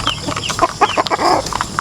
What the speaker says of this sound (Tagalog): Merong mga pag-game foul na mga manok.